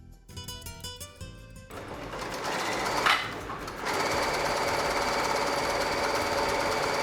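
A sewing machine runs along the center line of a fabric face mask, whirring steadily at close range after a few irregular starts.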